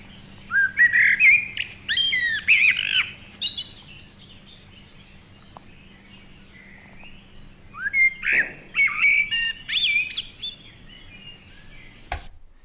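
A blackbird sings fluting, whistled phrases in two bursts separated by a pause, clear and fairly close over a faint low hum, in a cemetery park.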